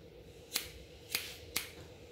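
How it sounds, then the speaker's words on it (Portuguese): Scissors snip hair in a barbershop fade cut, three crisp, quiet clicks spaced about half a second apart against faint background hum. "Eu vou direcionar as mechas em 90 graus, em linha reta, e vou cortar."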